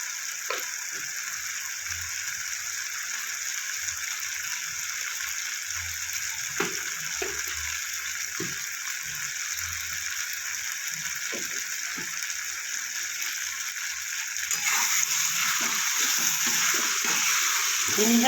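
Spices sizzling and frying in a pan while being cooked down for a spiced cabbage dish, a steady close hiss with scattered soft stirring knocks, growing slightly louder near the end.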